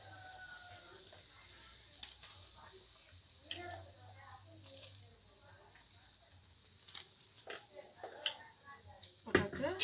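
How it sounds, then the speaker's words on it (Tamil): Egg paniyaram pieces drop into boiling egg curry gravy, giving a faint simmering sizzle with soft clinks and scattered plops, growing a little louder near the end, with quiet voices in the background. "இப்போ வந்து நம்ம இந்த பணியார முட்டையை வந்து போட போகிறோம்."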